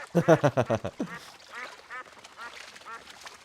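Ducks quack in the pilot episode of The Sopranos: a close burst of about six loud quacks in quick succession, followed by faint talking underneath.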